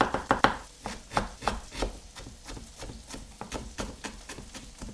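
A knife slices through ginger and slightly soft tomatoes on a board, with rapid, evenly spaced chopping taps near and clear, slowing a little toward the end.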